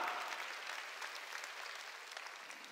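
A church congregation claps through a sermon: steady, fairly faint, continuous applause from many hands with no clear breaks over its whole length.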